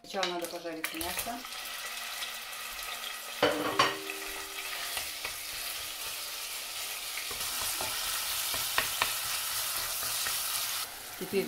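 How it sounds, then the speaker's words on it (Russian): Meat fries in a pan for mushroom soup, a steady sizzle that starts after a brief clatter and runs throughout, with occasional stirring and utensil knocks at close range, no talk. "Сначала надо пожарить мясо."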